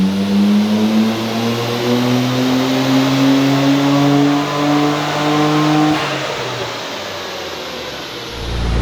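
A Nissan R32 GTR with HKS twin turbos makes a dyno pull, its engine note climbing steadily in a loud rising roar before the revs drop and fade at the end.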